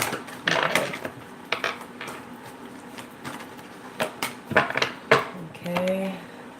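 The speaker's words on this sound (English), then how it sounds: "One more shuffle on this for deck number 1" A deck of tarot cards being shuffled in short bursts of riffling and tapping, close and fairly soft, with a person talking between the shuffles.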